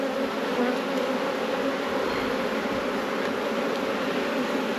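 Honey bees buzz around a plastic NL hive, a dense, steady hum of many insects close by, continuous and even with no voices.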